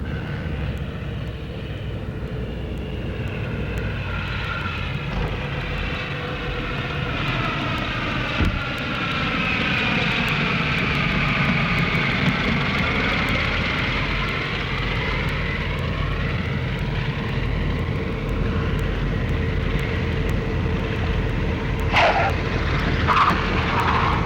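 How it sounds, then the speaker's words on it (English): Propeller airliner engines of an American Airlines passenger flight arriving to land on runway 22L, a steady droning roar that swells and slowly shifts pitch as it passes overhead, loud and continuous with no talk. "American Flight 369 in range over shoreline."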